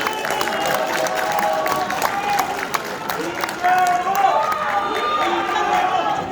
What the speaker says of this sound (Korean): 여러분 동의하시면 큰 박수로 부탁드리겠습니다